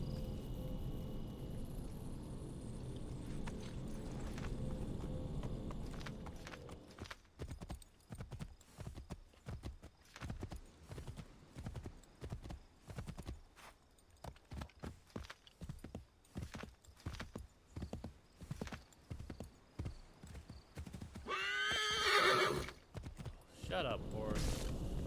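Horse hooves clip-clop in a steady rhythmic gait in Assassin's Creed III Remastered, a video game, starting after a quieter opening, with a whinny near the end over faint background sound.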